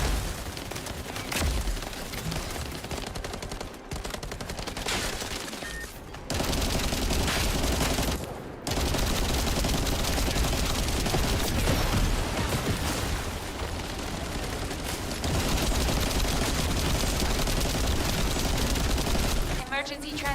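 A turret in the video game The First Descendant fires sustained gunfire. It is loud and dense, with rapid continuous bursts and only brief gaps, running nearly twenty seconds.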